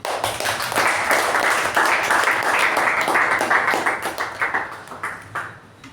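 A Toastmasters meeting audience claps steadily for the debutant Master of Ceremonies, a dense, continuous round of applause that tapers off near the end, with no talking over it.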